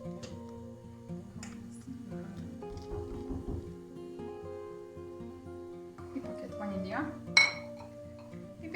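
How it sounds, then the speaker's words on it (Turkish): A metal spoon stirs milk pudding in a pot, giving a run of light, irregular clinks and scrapes against the pot, with a sharper clink near the end. "Biraz karıştıralım."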